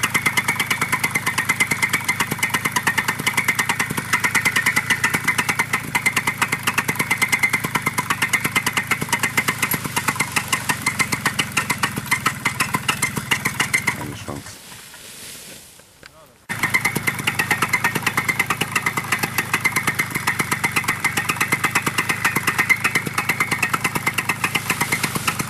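Paramotor engine running loud and steady during a takeoff run in calm, windless conditions, with a brief drop-out near the middle before the full roar resumes; voices shout over it.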